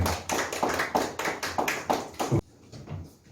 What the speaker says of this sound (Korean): 박수로 전달하겠습니다.